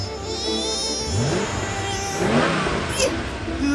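A cartoon race car's engine revs and accelerates in rising, whining sweeps, loud and close, with some animated voice sounds mixed in.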